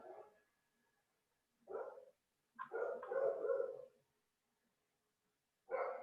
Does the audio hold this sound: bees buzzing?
no